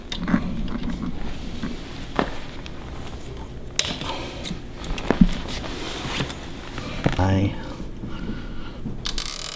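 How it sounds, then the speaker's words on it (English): A plastic zip tie is pulled tight while base lights are being replaced, giving one short, fast ratcheting zip near the end amid close handling clicks and taps. "I like that sound. The sound of zip."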